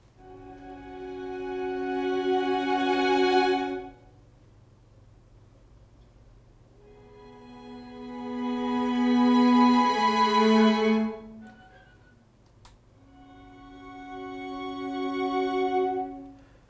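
A string section recorded through wide room microphones in Air Studio One plays three long sustained swelling chords, each rising and fading, with a spacious roomy tone and no talking.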